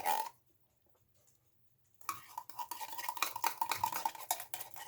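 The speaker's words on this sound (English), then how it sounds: "Let's get the tomato paste in there. Get that all scraped out." A spoon scrapes tomato paste out of its container into a pot for homemade sauce: after a brief silence come rapid, close scraping and clinking strokes of metal against metal, repeated in quick rhythm.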